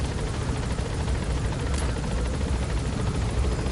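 Steady, loud rotor wash and engine roar of a helicopter in Metal Gear Solid V: The Phantom Pain, a dense continuous drone filling the whole stretch with no voices.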